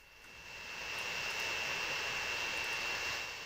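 An airplane engine idles at an airport in the game Transport Fever 2, a steady, fairly loud jet whine with a thin high tone that swells slightly and holds without any talk.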